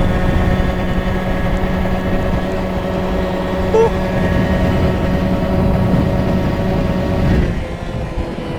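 A power-boosted 50cc scooter engine accelerates with a steady, loud, droning buzz that holds nearly constant throughout, easing slightly toward the end.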